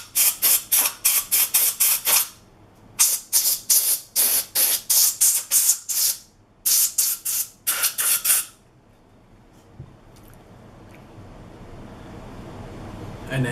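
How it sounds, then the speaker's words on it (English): Short bursts of compressed air spraying while cleaning a Glock 17 pistol, about a dozen loud hissing blasts in quick rhythmic runs, then quiet room noise. "And then take the compressed air."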